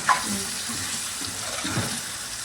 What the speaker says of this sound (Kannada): ಇವಾಗ ಸ್ವಲ್ಪ ನೀರು ಹಾಕ್ಕೊತೀನಿ